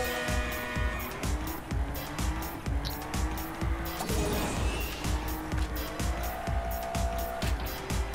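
A black Porsche racing in Table Top Racing: World Tour, its engine note droning loud and continuous with repeated rising revs and gear shifts, plus brief tire squeals through corners.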